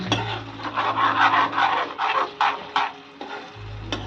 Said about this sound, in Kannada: ಸೌಟಿಂದ ಮಿಕ್ಸ್ ಮಾಡ್ಬೇಕು, ಅದು ಮಿಕ್ಸ್ ಆಗಬೇಕು